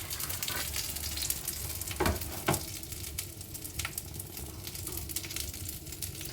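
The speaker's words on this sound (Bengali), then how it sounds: "এবার আস্তে আস্তে মাছগুলো এর মধ্যে দিয়ে দেব।" Bele fish slid into a pan of hot oil and water fry with a steady, dense sizzle and crackle throughout, with a couple of louder spits and bursts early on, close and continuous, no voices.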